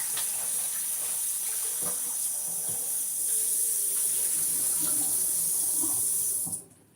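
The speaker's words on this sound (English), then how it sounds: "Let me wash these with some water real quick." Tap water runs steadily into a sink while raw chicken is rinsed, a close, continuous hiss with small splashes and knocks, cut off abruptly near the end.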